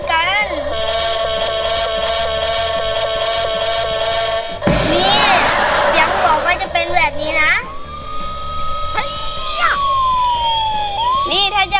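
A small electronic toy fire truck siren wails in a steady warbling tone, then a loud hiss of the toy spraying water cuts in, followed by more rising and falling siren sweeps.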